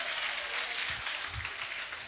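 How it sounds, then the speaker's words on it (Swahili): A church congregation at a Nairobi peace gathering applauds in a steady, dense patter of many hands, moderately quiet and continuous, with no voices over it. "Jipigie makofi kwa kuona dunia mzima"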